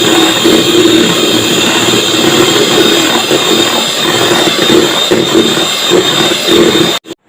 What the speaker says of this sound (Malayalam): ഇനി നമുക്ക് ഹൈ സ്പീഡിലിട്ട് 3 മിനിറ്റ് നേരം ബീറ്റ് ചെയ്തെടുക്കാം.